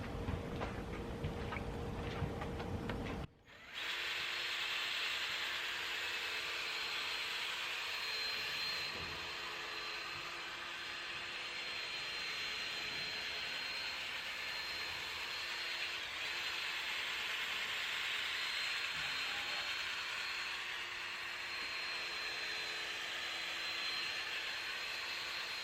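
A headlight is wet-sanded with 3200 grit sandpaper using a power sander, a steady whirring hum that runs on after a brief pause near the start, close and with no talk.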